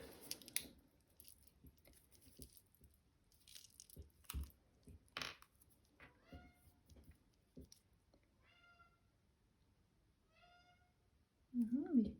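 A cat meows several short times in a quiet room while a person paints nearby, the mews light and scattered between soft rustles and a voice speaking.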